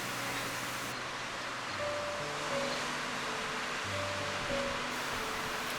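Ocean surf rolls and breaks steadily along the shore at Yachats, a continuous broadband wash of waves with no talk, swelling slightly now and then.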